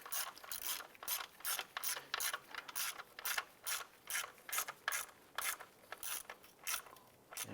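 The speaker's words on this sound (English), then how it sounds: "We'll go ahead and tighten down the one beside it." A ratchet wrench tightens a screw during knock sensor replacement on a 2011–2019 Ford Fiesta, giving a steady run of close, crisp clicking strokes in quick repeated bursts with no talking.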